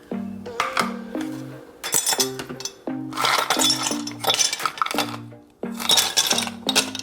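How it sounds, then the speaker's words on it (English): Ice cubes clinking and rattling into a cup for iced coffee, bursts of bright, close tinkling knocks that come in several clustered rounds. "You're also going to need a cup of ice."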